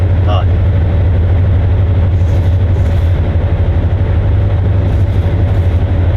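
Low, steady diesel rumble and rail drone of a train running in Train Sim World 6 on a GWE route, constant and close, with someone talking over it.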